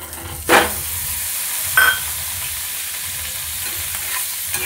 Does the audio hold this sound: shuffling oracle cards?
no